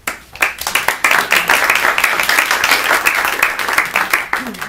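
Audience clapping to welcome candidates at a district candidate forum, a fairly close, busy patter of hands with distinct individual claps, continuing steadily throughout.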